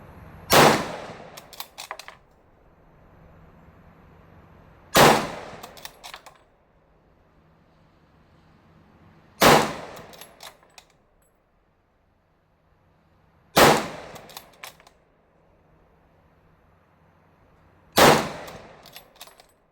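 Five sharp, loud rifle shots from a Navy Arms Quest Extreme Carbine ring out alone at a slow, even pace about four seconds apart, each followed by a short decaying echo.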